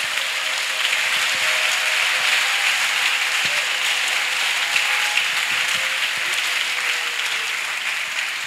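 A church congregation applauds steadily to acclaim Jesus Christ. The dense, even clapping holds at one level throughout, with no break.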